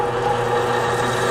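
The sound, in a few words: 80 grit sharpening wheel spinning up to speed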